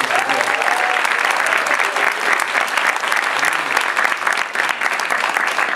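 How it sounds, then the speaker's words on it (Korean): A church congregation at an anniversary service breaks into sustained applause, a dense steady wash of many hands clapping close and loud for several seconds. "우리 박수 한번 주세요"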